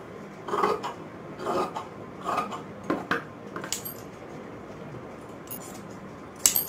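Scissors cutting cloth for stitching a garment for a Goddess Lakshmi idol, quiet snips and rasps near the microphone in a few uneven bursts, with a sharper clink at the end.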